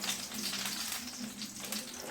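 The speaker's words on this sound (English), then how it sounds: "we're going to add a little bit more olive oil to our frying pan" Olive oil sizzles and crackles steadily in a hot frying pan while fish cakes fry, a continuous close frying hiss with no talking.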